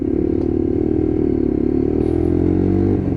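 Lexmoto LXR SE Euro 5 motorcycle being ridden, a loud, continuous engine drone with steady rumble and slight rise in pitch, heard close with constant wind and road noise.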